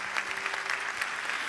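A church congregation applauds steadily, a dense wash of many hands clapping at moderate distance, continuous and fairly soft.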